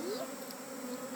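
Honeybees buzz steadily close by at a beehive while a swarm is being caught outdoors, a continuous insect drone with one rising whine partway through and no talk.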